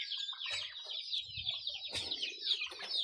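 Turkeys and other poultry calling at a farm, a busy stream of chirping, clucking bird calls with a few louder bursts, fairly close and continuous throughout.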